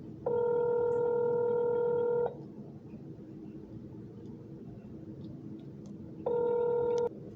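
A telephone call to police headquarters rings twice on the line, each ring a steady two-second tone separated by a long pause, over a low background rumble.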